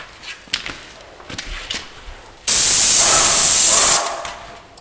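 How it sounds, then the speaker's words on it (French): An airless paint sprayer spraying a wall, showing an improper spray pattern: a loud steady hiss bursts on and runs about one and a half seconds before cutting off, after quieter handling noises. "show them what it looks like to have an improper spray pattern"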